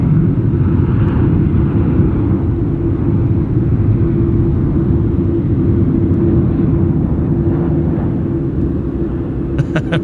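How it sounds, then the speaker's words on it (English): A Virgin Australia aircraft at Sydney Airport produces loud, steady jet rumble that fills the whole stretch without letup, heard close and continuous with no talking. "A Virgin Australia aircraft going to Cairns."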